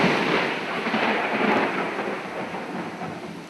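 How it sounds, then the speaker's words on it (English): A long, heavy rumble of intense thunder rolls on steadily, loud and dense like a storm downpour, with no voices. "accompanied by an intense thunder."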